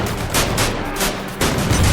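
Gunfire and shell explosions in a World War II VR battle game, with loud repeated blasts and bursts of shooting in quick succession, close and dense, with no talking.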